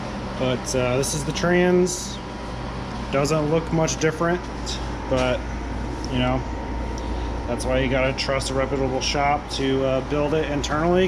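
An air conditioning unit in hot weather hums as a steady low drone under someone talking continuously nearby.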